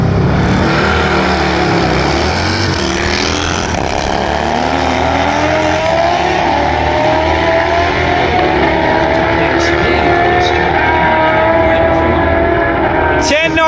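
BMW S1000R naked motorcycles at a drag racing event, their engines roaring loud and continuous as they accelerate, the pitch climbing through gears across the run.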